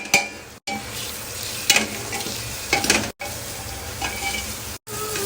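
Onions, tomatoes and masala fry in a pan, giving a soft, steady sizzle broken by a few scraping stirs. A few brief silent gaps interrupt it, and nobody speaks.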